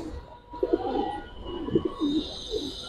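Pigeons, including coloring and racer breeds, coo in short throaty bursts up close, with soft background noise between the calls.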